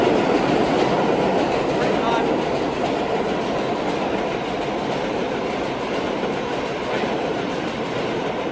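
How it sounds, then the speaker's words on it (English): A subway train passes close by, a loud, steady rolling rumble of rail cars and wheels that holds for several seconds without letting up. "Subway coming behind me."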